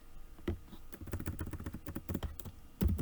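Keys clatter on a computer keyboard as an SQL delete statement is typed, a quick uneven run of close clicks with short pauses and a louder flurry at the end.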